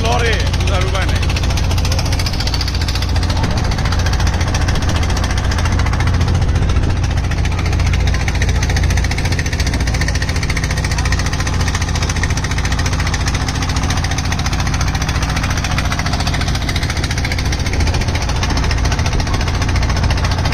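A trawler boat's engine thuds steadily and loudly while crossing a choppy river, a continuous low rumble with heavy knocking throughout, with voices talking over it.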